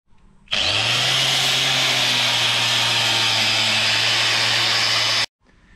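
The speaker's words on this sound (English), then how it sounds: "I'll get the cleaning disc on the grinder, and I'll bare metal the tubes on the diff housing both sides" An angle grinder fitted with a cleaning disc strips steel axle tubes on a pickup truck's differential housing to bare metal, running as one loud, steady sustained whine that starts and stops abruptly.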